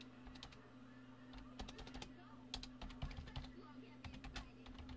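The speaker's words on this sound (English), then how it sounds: "let's just type something" Computer keyboard typing in bursts of quick clicks over a steady low hum, fairly faint and close, with pauses between short runs of keystrokes.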